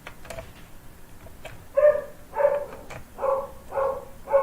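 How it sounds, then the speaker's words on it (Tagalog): A dog gives a series of five or six short, evenly spaced barks or yips, close and fairly loud, following a few quieter thumps. "Pag-iipatulog po daw yung aso."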